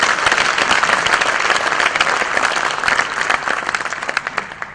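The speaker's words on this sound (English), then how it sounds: "just let's clap for this idea," A crowd at a ground-breaking ceremony claps steadily for a few seconds, dense and fairly close, with scattered louder individual claps fading slightly toward the end.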